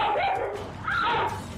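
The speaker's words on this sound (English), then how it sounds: "Without warning, the pit bull snaps and tries to bite down on Max." A pit bull attacking a much smaller dog, barking and yelping loudly in two close bursts with snarling and whimpering mixed in.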